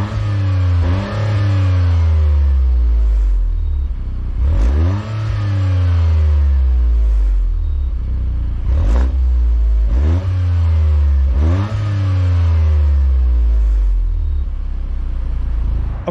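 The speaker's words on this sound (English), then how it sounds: "that triple tip exhaust, which even at idle, this thing sounds ungodly" A 2023 Toyota GR Corolla's three-cylinder engine revs hard in repeated bursts through a triple-tip exhaust, the deep note rising and falling about every three seconds, loud and close, with no talking.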